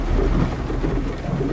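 Heavy rain pours steadily with deep rumbling thunder underneath, a loud continuous wash of storm noise with no voices.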